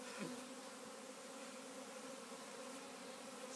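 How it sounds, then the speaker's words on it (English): A prime honeybee swarm hangs about twelve feet up in a tree and gives off a continuous, faint, even drone of many bees buzzing together. A single brief louder buzz stands out near the start. "That is a prime swarm."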